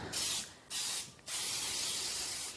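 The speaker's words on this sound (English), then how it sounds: "I'm just going to use that and spray the inside of the pan." Baker's Joy flour-containing baking spray hissing into a bundt pan in three close, loud bursts, the last one long and steady.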